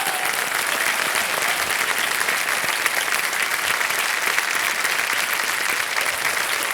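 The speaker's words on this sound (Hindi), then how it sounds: "तालियां बज जाए इनके लिए." Studio audience applause on the Kaun Banega Crorepati quiz show for a contestant winning a cheque, loud, continuous and dense clapping throughout.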